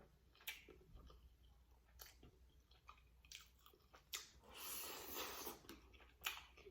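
Sticky rice eaten mukbang style, heard as close, quiet, wet chewing with irregular sharp smacks and clicks plus a brief louder squishy stretch, without talk.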